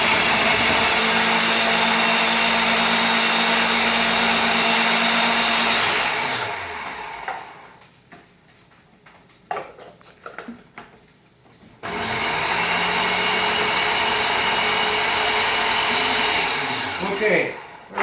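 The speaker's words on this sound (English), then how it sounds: "let's mix this up again." An electric mixer whirs loudly and steadily through crab cake mixture, stops for a few seconds of clattering and handling, then starts again at the same strong, continuous pitch.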